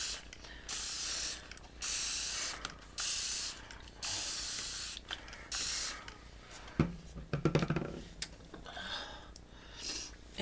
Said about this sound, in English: Take my spritz bottle.